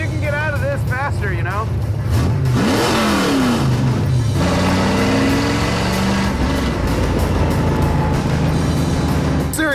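A street legal stock car with a clutchless Jericho 4-speed gearbox drives and accelerates. Its engine is loud and close, climbing through rising revs and running steadily throughout, with people talking over it.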